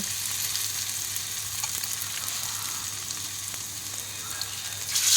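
Gram flour and flattened rice snacks deep frying in hot oil, a steady even bubbling sizzle close by with faint crackles, swelling slightly at the very end.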